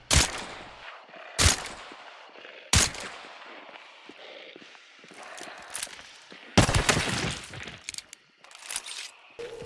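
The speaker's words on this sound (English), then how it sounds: "So if I just cut loose and start firing, especially as my gun starts recoiling upwards, I am more likely to miss that zombie than hit him." Rapid revolver fanning in a zombie video game: sharp, loud gunshot bursts at uneven intervals, several separate shots and a denser volley near the end, over a low game background with no speech.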